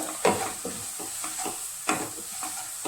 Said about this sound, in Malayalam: മഞ്ഞൾപ്പൊടി, മുളക് പൊടി നന്നായിട്ട് ഇളക്കി കൊടുക്കുക.